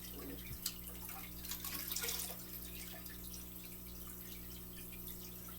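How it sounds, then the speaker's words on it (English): Water pours into a fish tank being set up for mollies, a soft steady trickle and splash with a slightly louder burst near the start, then a settled flow. "Okay, I'm adding the water to this tank."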